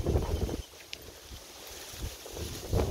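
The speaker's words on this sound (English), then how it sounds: "So today is a windy day." Wind blowing outdoors on a gusty day, rumbling and buffeting against the microphone in uneven surges that rise and fall, fairly faint overall.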